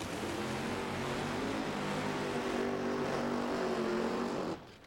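NHRA drag racing cars doing burnouts at a 1996 event, a dense sustained engine roar and tire scream, loud and steady for several seconds before cutting off abruptly.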